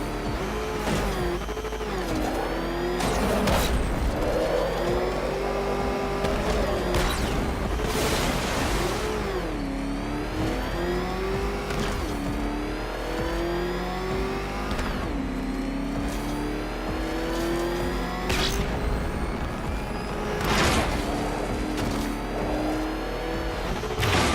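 Batmobile engine in Batman: Arkham Knight, loud and close, revving and surging continuously with rising and falling pitch, repeated accelerations, bursts of boost and occasional tire squeal across the whole stretch.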